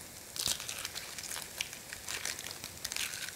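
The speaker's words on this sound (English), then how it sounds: "peeling off the skin" Papery onion skin crinkles and crackles softly in short, irregular bursts as it is peeled away by hand in a kitchen, close and fairly quiet with no voices.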